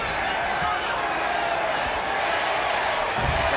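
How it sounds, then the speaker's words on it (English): A large arena crowd at WrestleMania 1 in 1985 roars and chants steadily through a David Sammartino versus Brutus Beefcake match, a dense, continuous wall of voices with a few thuds underneath. "The crowd's chanting."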